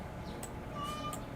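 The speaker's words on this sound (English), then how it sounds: "That was my cat." A pet cat meows indoors, a soft, fairly distant call of about half a second, with a fainter chirp just before it, against a quiet room background.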